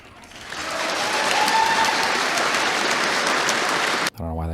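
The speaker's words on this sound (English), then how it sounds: "I don't know why they clap for me, but thank you." Dense audience applause at a debate swells up quickly and holds as a loud, even roar of many clapping hands before cutting off abruptly.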